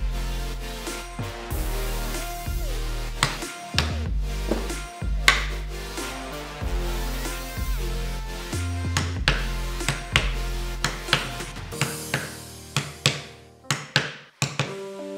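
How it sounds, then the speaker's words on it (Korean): Round 3 mm punch driven through a leather shoulder strap by repeated hammer blows, a steady series of sharp, close, percussive knocks with brief ringing tails. The blows grow quicker and more clipped toward the end, with no talking. "스트랩 반대쪽은 어깨 스트랩 패턴에 표시되어 있는 빨간색 3파이 원형 펀칭에 맞춰 구멍을 6개에서 7개 뚫어주세요"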